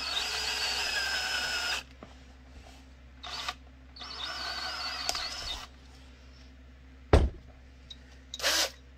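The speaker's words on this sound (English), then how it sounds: "Drill that hole. Again, let the drill do the work." Power drill boring a hole in a holster shell for a Beretta M9A3 with a TLR-1 light, in several close, loud whirring bursts separated by pauses, with a brief clunk near the end.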